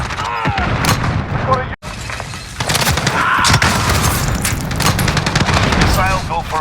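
Missile launch and airstrike explosions in a first-person shooter game, heavy booms and dense bursts of gunfire with a brief dropout, loud and close, mixed with game voice callouts.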